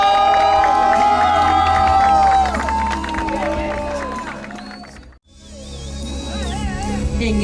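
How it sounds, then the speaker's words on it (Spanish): A beauty pageant audience at an evening-gown round cheers and claps over loud music, the crowd noise fading, dipping out for a moment and then swelling again. "Con un fuerte aplauso despedimos a la candidata número 2, Natalia Edvard."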